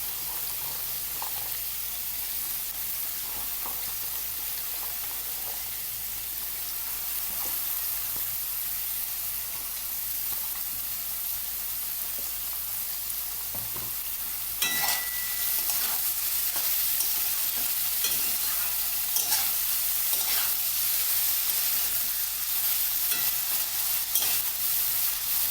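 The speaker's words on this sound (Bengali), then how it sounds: "এবার বিনসগুলো দিয়ে দিচ্ছি।" Green beans hit hot oil in a pan and are stirred while frying for a vegetable Maggie noodle dish, giving a steady soft sizzle that jumps louder partway through, with scraping stir strokes and no talking.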